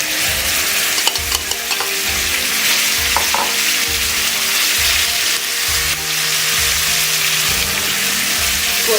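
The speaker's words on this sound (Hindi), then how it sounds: "अब हम मैरिनेशन किया हुआ जो हमारा चिकन है उसको ऐड करेंगे।" Marinated chicken frying in a tablespoon of oil, a steady close sizzle with stirring scrapes and a low rhythmic hum running throughout, no voices.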